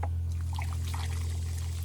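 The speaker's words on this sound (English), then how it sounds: "I'm gonna put a little bit more water in here" Water is poured steadily onto the soil of a newly planted bare-root plum tree in a pot, a soft continuous trickle with faint splashing over a steady low hum.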